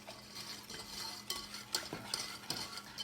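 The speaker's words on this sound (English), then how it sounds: "Whisk in the milk, it says." Milk is whisked into an amaretto pie filling in a bowl, giving quiet rhythmic scraping and clinking strokes, close and faint, with no talking.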